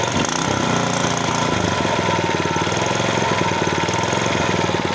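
A Kentavr walk-behind tractor engine runs loud and close, a steady low chugging drone with slight rises in pace as the throttle is nudged, continuous throughout without any talk.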